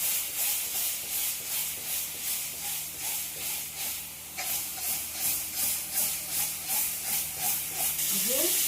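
Fish spice masala with chili powder and a little water boiling in a pan, a steady soft hiss and bubbling simmer throughout with faint clinks.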